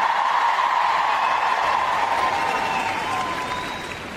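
A large indoor crowd at the Crufts dog show cheers and claps for an RAF display team, producing dense, loud applause with shouts that gradually fades toward the end.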